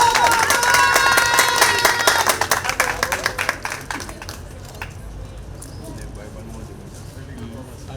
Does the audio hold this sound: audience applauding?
yes